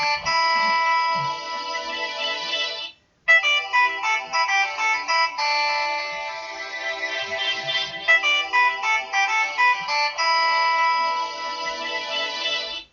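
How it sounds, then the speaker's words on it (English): A phone's melodic ringtone plays loudly and steadily for about thirteen seconds, with one brief break near the start, and no voices over it. "I'm just going to let the phone ring."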